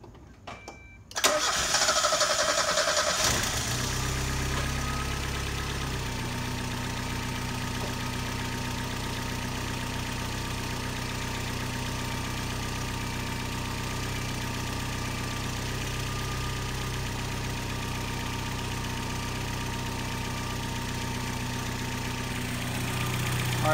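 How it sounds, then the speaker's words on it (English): A 1.6-litre Mazda Miata MX-5 engine, just fitted with replacement fuel injectors, cranks and catches, then settles into a steady, close idle that holds for the rest of the clip with no talking. "So I'm gonna go ahead and now start the car and see what happens."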